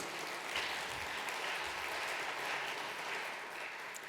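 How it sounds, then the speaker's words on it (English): Congregation clapping in a church service, a soft, continuous patter of many hands heard at a distance and fairly quietly, with no voices over it. "Let's give them a round of applause."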